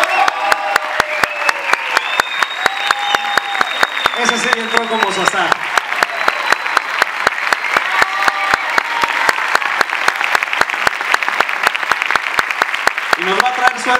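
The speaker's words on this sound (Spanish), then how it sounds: "Un fuerte aplauso para Matías Gorlero" Loud, sustained applause from a theatre audience at a premiere of La Jaula de las Locas, a dense patter of many hands throughout, with people talking and calling out over it.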